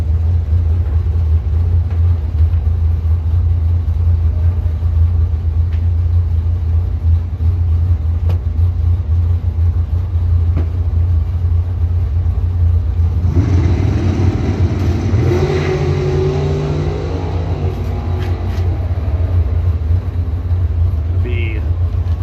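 Drag racing cars, among them a Chevrolet Monte Carlo and a 1991 Chevy S10, make a pass down the strip, a steady engine rumble swelling into a loud nearby roar in the final seconds while an announcer talks over it.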